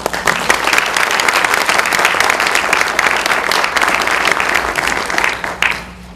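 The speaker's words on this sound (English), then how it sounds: "Let's give him one more round of applause." A lecture-hall audience at a Lincoln history talk gives a long, dense round of applause that holds steady, then tapers off at the end.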